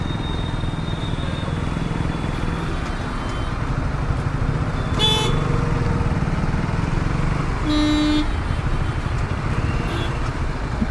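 Busy Mumbai road traffic heard from a motorbike caught in a jam: a constant engine and road rumble with two short, sharp car horn toots a few seconds apart, fairly close.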